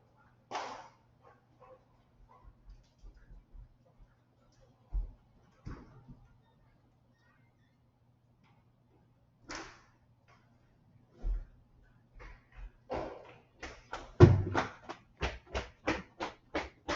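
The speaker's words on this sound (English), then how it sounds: "Hold on, let me get my dog out of here." A dog in a home office moves around, with scattered scrabbling and thumps, then a quick run of rhythmic taps near the end; no clear barking.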